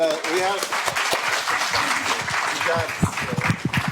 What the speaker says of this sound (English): Let's give our team a round of applause